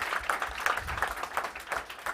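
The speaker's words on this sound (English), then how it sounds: "Round of applause for George, everyone." A small crowd at a post-fight press conference for the OKTAGON 48 fighting event claps in a brief, uneven round of applause, fairly faint and somewhat distant.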